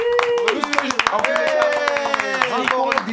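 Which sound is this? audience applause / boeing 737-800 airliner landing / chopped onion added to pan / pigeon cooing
audience applause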